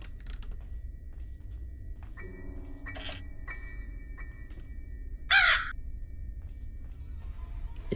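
A crow caws once, loud and close, inside the Granny horror video game, standing out sharply over low ambient game noise and a few faint clicks and tones.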